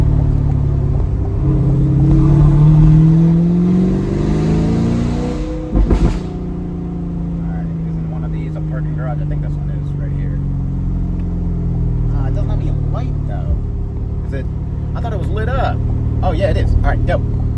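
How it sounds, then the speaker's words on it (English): A tuned C8 Corvette exhaust rumbles and revs, rising in pitch then settling into a deep idle burble, with someone talking over it afterward. "this exhaust is just wicked. Man, it sounds so good."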